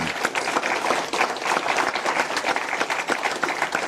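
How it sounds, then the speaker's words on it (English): A debate audience applauds Siobhan McDonough in a steady, dense burst of many hands clapping, close and sustained. "A round of applause, please, for Siobhan."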